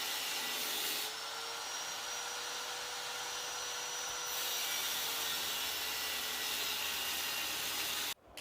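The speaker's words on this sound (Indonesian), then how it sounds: "Kita gerinda dulu untuk asnya supaya dia bisa terlepas dulu" An angle grinder cuts into the rusted axle of a motorcycle swing arm, giving a loud, steady grinding whine that runs unbroken for about eight seconds before cutting off abruptly.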